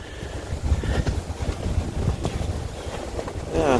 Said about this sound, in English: Kind of breezy today.